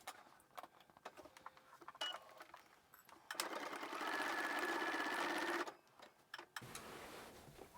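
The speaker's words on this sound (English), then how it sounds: "Let's head to the machine and stitch everything down." A sewing machine stitches skirt pieces with a close, steady mechanical whir lasting a few seconds, preceded and followed by quieter clicks and fabric handling, with no talk.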